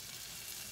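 Pork belly strips and spices fry in a pan, giving a brief, even, faint sizzling hiss with no pauses.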